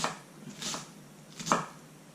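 A knife slicing taco ingredients on a cutting board, two soft cuts about a second apart, close and fairly quiet with no talking.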